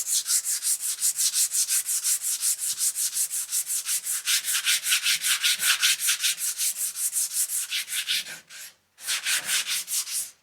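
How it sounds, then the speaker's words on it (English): Rhythmic hand sanding of body filler on a Datsun 280Z body panel, rapid even back-and-forth scrubbing strokes, loud and close, with a brief pause before the strokes resume. "so we should just need a light sanding for most of it"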